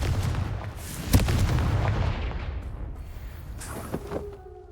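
Confringo blasting spell in the Hogwarts Legacy video game, a rumbling explosive burst with a sharp crack that fades into a decaying boom, followed by a couple of smaller pops.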